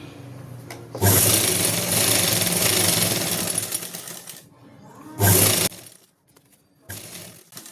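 A sewing machine stitches a salwar right alongside the buckram, running in a long whirring burst, then a short one, then another after a quiet pause.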